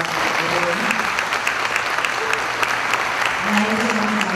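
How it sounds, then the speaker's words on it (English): Audience applause at an entertainment company event, loud and sustained throughout, with voices murmuring beneath the clapping. "let's give them all a round of applause"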